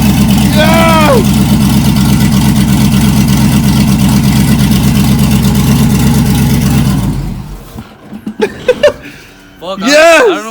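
An LS-swapped 1970 Chevrolet Nova roars during a burnout, its engine held at a loud, sustained rev for several seconds before cutting off abruptly, followed by people shouting excitedly nearby.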